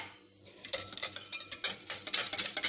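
A utensil beats and stirs cake batter with oil in a bowl, producing rapid irregular clinks and scrapes against the bowl that grow busier and louder over a couple of seconds.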